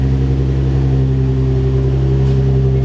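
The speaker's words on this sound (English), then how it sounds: "it doesn't sound like a misfire, even though it is very loud" Nissan 350Z engine running loudly just after a cold start, a steady, heavy low drone close to the microphone with no variation in pitch and no voices.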